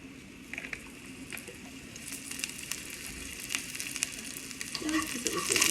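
Oil sizzling in a pan while japchae cooks: a continuous close crackling fry that builds gradually louder, with scattered pops and spatters and a brief stirring scrape near the end.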